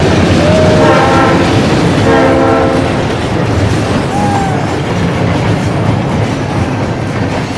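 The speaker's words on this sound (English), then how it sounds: "We sat by the tracks, waiting for a train that had only 3 cars." Short three-car train rolling past close to the tracks, loud rumbling wheels and rail noise with two long horn blasts early on, the roar gradually easing as it goes by.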